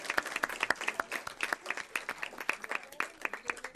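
A small group claps for school board transportation apprentice program graduates, brisk uneven hand claps close by, moderately quiet and without cheering.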